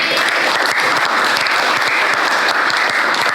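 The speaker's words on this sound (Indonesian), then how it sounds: "Tepuk tangan dulu buat Owi" A classroom full of students applauds one of their classmates, loud continuous clapping from many hands close by, dense and even from start to finish with no voices over it.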